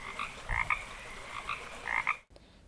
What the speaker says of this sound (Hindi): मेंढक बोला टर टर टर, टर टर टर, टर टर टर।